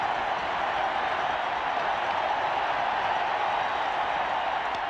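A large baseball stadium crowd roars steadily at the 1986 ALCS Game 5 between the Red Sox and Angels, a continuous, distant wash of cheering and applause with no breaks.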